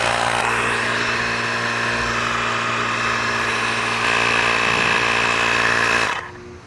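Ryobi PCL001B cordless tire inflator pumps air with a loud, steady mechanical drone and buzz that runs nonstop for about six seconds, then cuts off abruptly.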